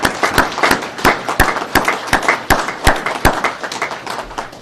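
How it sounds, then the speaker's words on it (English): A small group at a Massachusetts state COVID-19 briefing applauds, with sharp, close hand claps arriving in an irregular, steady patter for several seconds and no talking. "I think that deserves a round of applause."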